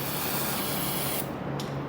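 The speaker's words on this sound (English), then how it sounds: "We'll spray this off before we get our mount back in there." A continuous, loud hiss of spray aimed at car transmission parts on a Chevrolet Chevelle with a 4L60E transmission, steady and close, then cutting off abruptly near the end.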